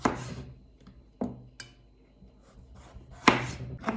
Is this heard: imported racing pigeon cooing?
no